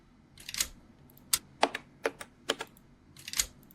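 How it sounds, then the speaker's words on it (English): Mechanical clicks sounding one after another at an uneven pace, some in quick pairs, crisp and close with nothing else around them. "we need something like a very mechanical. Let's look at mechanical buttons"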